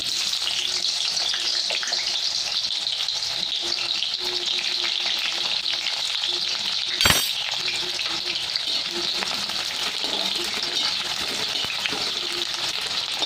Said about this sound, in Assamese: এইফালে তেল দি থৈছোঁ, তেলখিনি গৰম হৈছে। এতিয়া মই পিঁয়াজ দি দিব পাৰিম, পিঁয়াজ দি দিছোঁ।